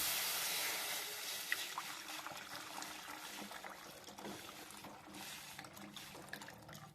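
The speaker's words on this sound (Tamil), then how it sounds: "தண்ணி எடுத்து இதில் ஊற்றிடலாங்க" Tamarind water trickles and splashes as it is poured into a pot for horse gram rasam, a steady close pour with faint hiss and no talk.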